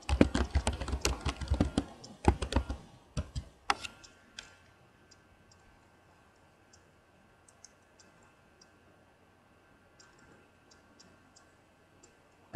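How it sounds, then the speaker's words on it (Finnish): A burst of quick typing on a computer keyboard to enter a search word, dense clattering keystrokes for about four seconds, then a few sparse faint clicks alone in a quiet room. "kirjoita joku hakusana, jolla haluat kuvia etsiä."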